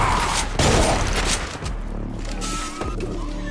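Chain gun firing in Project Brutality, a Doom mod, a loud rapid burst of shots in the first second and a half that gives way to a rumbling, quieter game soundscape.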